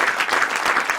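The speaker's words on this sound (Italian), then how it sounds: "Un applauso a questi ragazzi" A short burst of dense clapping from a crowd, steady and fairly loud throughout.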